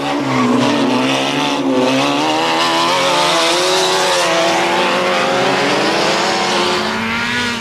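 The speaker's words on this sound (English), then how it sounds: "By Monument and lap 3, Miller and Ward have broken away a little" Race cars roar around the Phoenix Park motor racing circuit at the 1990 Dublin races, engines loud and continuous with rising and falling revs and tire noise as they sweep past, no talk over them.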